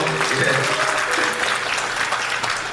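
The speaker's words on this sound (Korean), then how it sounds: "우리 박수 한 번 할까요?" A congregation at a church gathering claps together in a dense, steady burst of applause, close and loud throughout the short moment.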